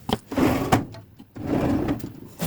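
A drawer full of craft supplies slides open close by, with wooden scraping and rattling of contents in a couple of short bursts separated by quiet pauses.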